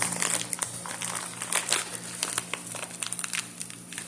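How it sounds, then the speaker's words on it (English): Cheap thin plastic bag holding trading cards crinkles and crackles continuously up close, with dense irregular rustling bursts and no voices. "It looks like the cards are just like put in like a cheap plastic bag"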